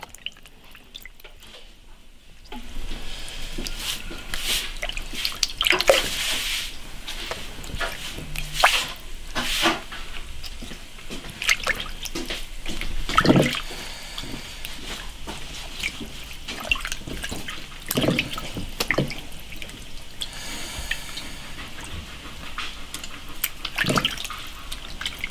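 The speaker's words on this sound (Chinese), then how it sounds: "加水，先把它洗干净" Small river fish washed by hand in water in a pot, batch by batch, with repeated splashing, dripping and sloshing that runs close and fairly loud, no speech.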